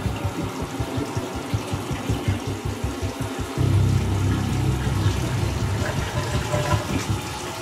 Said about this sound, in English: Flush that down the toilet.